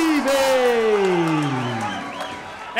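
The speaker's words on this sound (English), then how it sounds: "And listen to that crowd" A crowd at an MMA event cheers and whoops for a debuting fighter as a ring announcer's long drawn-out call rings over the roar, the noise loud and sustained throughout.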